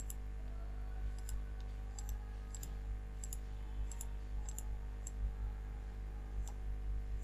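Soft, regular computer mouse clicks while classifying cloud areas in Google Earth Engine, a dozen or so evenly spaced sharp ticks over a steady low hum, fairly quiet and close.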